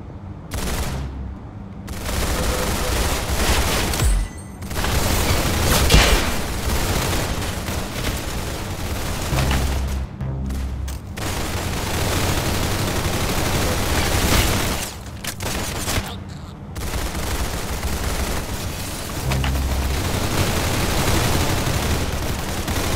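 Gunfire in the Roblox Arsenal shooter game: dense, rapid volleys of shots and bursts that roll on almost continuously, loud and close, broken by a few brief pauses.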